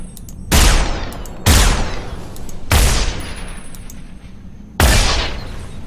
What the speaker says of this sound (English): I'm actually going to fire a shot